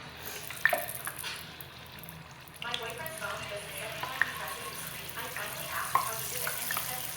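Unniyappam batter frying in coconut oil in an appam pan, a steady soft sizzle and bubbling at close range with occasional sharp clicks and clinks, no voices.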